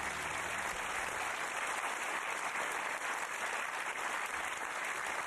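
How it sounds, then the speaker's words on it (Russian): A studio audience on the UK game show Who Wants To Be A Millionaire? breaks into steady, even applause, a continuous wash of clapping heard quietly and without voices. "Аплодисменты."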